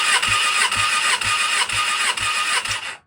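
A motorcycle engine is cranked over with the throttle held wide open for a compression test, giving a rhythmic chugging of about six even pulses under a dense whirring starter drone, stopping abruptly near the end.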